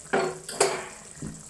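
Kadai pan set down on a kitchen stove while making bitter gourd theeyal: two clattering metallic knocks in quick succession, then a softer bump, close and fairly loud with no talking.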